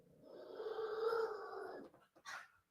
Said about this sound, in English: Did you guys hear her growling?